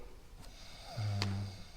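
A sleeping person gives one short, low snore near the end, close but fairly quiet against a faint background.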